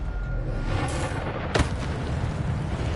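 A fire spell is cast in a wizarding video game, giving a sudden sharp whooshing burst over a steady background rumble and game ambience.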